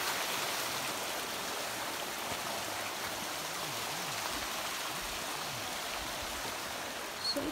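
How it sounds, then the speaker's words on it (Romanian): A mountain stream flows steadily in a gorge near waterfalls, its close, continuous rushing wash of water holding an even level throughout with no talk over it. "Ce fain curge apa asta."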